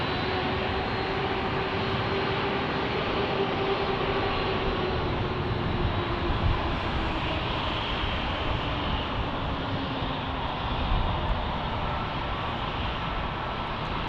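An airplane at Minneapolis St. Paul International Airport, bound for Atlanta and making a left turn, gives a loud, steady broadband jet roar that lasts the whole stretch with no talking.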